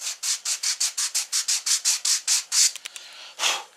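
Steady back-and-forth rasp of a sanding block worked over wood for a flatbed toy truck, about fifteen even rhythmic strokes close up, then a few lighter scuffs and one final stroke.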